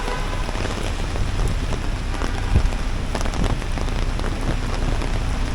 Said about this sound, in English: The rain is definitely raining now.